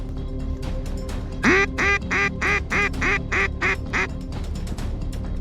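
A duck quacks loudly and close, giving about eight evenly spaced calls in a steady rhythm, on a duck hunt in New Zealand with a low background rumble.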